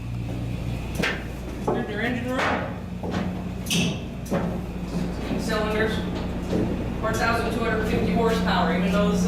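Inside the engine room of a running Amtrak P40 locomotive, a steady mechanical hum and drone with occasional thumps and clanks, while people talk over it.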